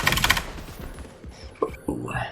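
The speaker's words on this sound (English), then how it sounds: "Ooh, a little explosion." Gunfire and a small explosion in the video game The Division 2: a rapid burst of shots, then a few sharp cracking impacts.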